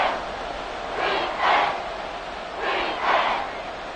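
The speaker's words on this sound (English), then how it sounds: "The Arrowhead crowd in full roar." A stadium crowd at Arrowhead during a Chiefs vs Jaguars football game swells in two pairs of loud, rhythmic roars over a constant background din.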